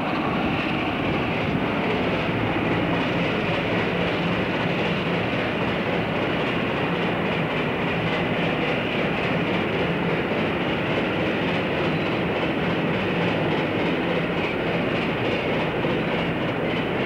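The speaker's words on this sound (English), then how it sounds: "This is 25277 on a southbound working." Class 25 diesel locomotive 25277 hauls a southbound train near Three Spires Junction north of Coventry, with a steady rumble and wheel clatter that carries unbroken throughout.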